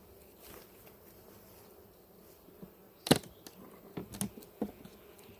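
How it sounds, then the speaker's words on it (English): Faint buzzing of honey bees in a hive at an apiary, with scattered close clicks, taps and rustles from nearby handling. "make sure there's still some bees in here"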